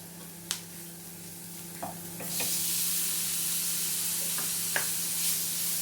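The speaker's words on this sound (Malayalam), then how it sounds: "ഇത് നന്നായി ഒന്ന് പച്ചക്കുത്ത് പോണ വരെ ഒന്ന് ഇളക്കുക." Horsegram masala sizzles in a pan as it is stirred, a few sharp spoon scrapes and taps over a low hum before the frying swells into a steady, louder hiss.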